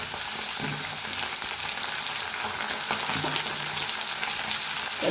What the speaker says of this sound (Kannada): ಚೆನ್ನಾಗಿ ಎಣ್ಣೆಯಲ್ಲಿ ಫ್ರೈ ಆಗಲಿ ಬಟಾಣಿ